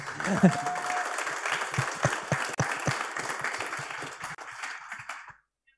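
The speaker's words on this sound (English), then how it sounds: "Can everyone clap for the microphone so Tim can hear the applause?" An audience at a biotech showcase claps steadily into a microphone for several seconds, a moderate wash of applause with a brief voice at the start, tapering off and ending abruptly.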